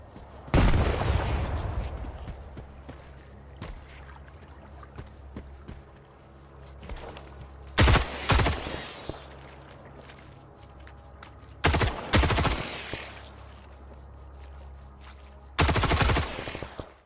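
A grenade explosion and pistol gunfire in the video game S.T.A.L.K.E.R. 2: one big blast with a long ringing decay, then sharp, loud clusters of shots spaced several seconds apart over quiet gaps.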